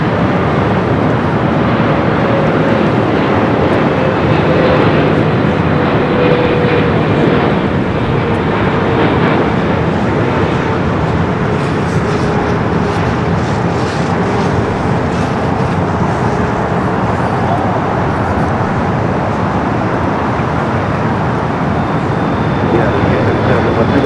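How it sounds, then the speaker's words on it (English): China Eastern Boeing 777-300ER, eleven years old, arriving to land at Los Angeles International Airport, a loud sustained jet roar with a slowly shifting whine, continuous and close, building across the approach. "We got the China Eastern at 777 at 300ER up next for arrival."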